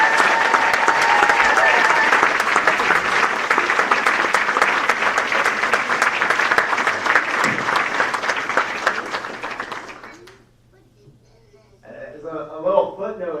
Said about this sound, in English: let's have one more round of applause for Shannon Porter and the 2009 men's soccer